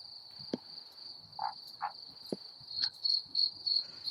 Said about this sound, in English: Additional crickets.